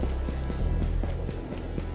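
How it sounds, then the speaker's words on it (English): Footsteps from several players moving through a map in the shooter Ghosts of Tabor, a run of evenly spaced soft thuds over a low game drone and background hum, fairly close and moderately loud. "I hear a lot of footsteps."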